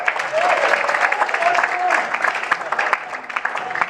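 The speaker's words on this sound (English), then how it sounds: "give him a round of applause, Rob" Applause from a fan convention audience cheering a contestant in a quiz-style game show, a steady clapping wash with a few whoops and voices mixed in, tapering slightly at the end.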